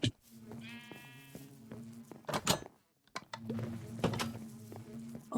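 Several sheep in a video game bleat in short, wavering cries, close by, interspersed with clicks and a few brief thumps.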